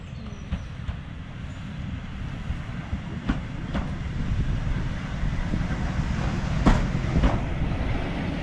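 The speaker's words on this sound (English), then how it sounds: "We're just waiting for our railcar train. This is our railcar train." A heritage railcar train rolls into a platform at Didcot Railway Centre with a low, steady rumble, sharp wheel clicks over rail joints, and engine noise that grows slightly louder as it approaches.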